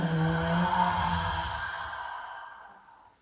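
A slow, audible exhale during a somatic yoga session focused on inner thigh release, starting fairly full and fading gradually into quiet over a few seconds.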